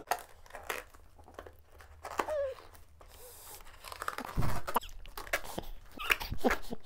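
Close, crackly cardboard and tape tearing and scraping in short bursts as a Victorinox knife cuts open a cardboard box, with rustling and a few soft knocks between them.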